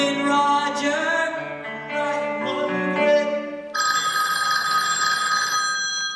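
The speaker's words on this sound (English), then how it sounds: "The phone rings." A telephone rings loudly and steadily in a scene from the stage musical RENT, its bell tone continuing alone without talk and shifting to a brighter ring partway through.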